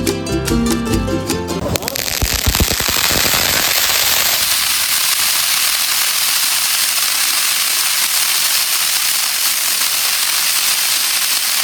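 Loud firecrackers burst in a rapid string during a Diwali night celebration, the crackling dense at first and then giving way to sustained hissing sparks and fizzing that carries on steadily to the end.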